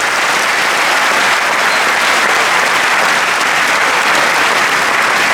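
Loud, dense applause from a large audience at an awards ceremony for the Concours Général 2019, holding steady and unbroken throughout with no voices above it.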